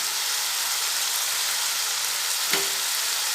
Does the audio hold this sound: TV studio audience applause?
no